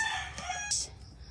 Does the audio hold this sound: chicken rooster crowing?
yes